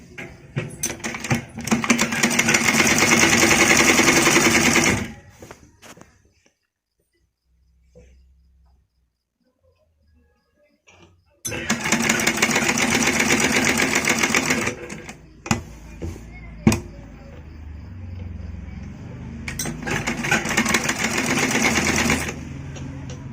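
A sewing machine runs long basting stitches on a small child's kurti in rapid, steady whirring bursts, stopping and starting across the stretch with quiet pauses between runs.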